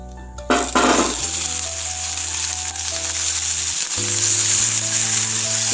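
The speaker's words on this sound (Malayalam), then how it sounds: "ഈ ചെറിയ ഉള്ളി ഒന്ന് നന്നായിട്ട് വഴറ്റിയെടുക്കാം." Small onions hit hot coconut oil in a pan with a sudden loud sizzle, then settle into a steady bright crackling fry with a low hum underneath.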